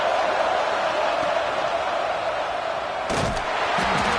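A college football video game stadium crowd roars in a loud, continuous wash of cheering, with a thumping burst of noise near the end.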